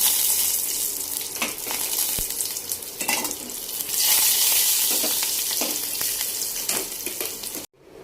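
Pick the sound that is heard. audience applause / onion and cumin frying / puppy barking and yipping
onion and cumin frying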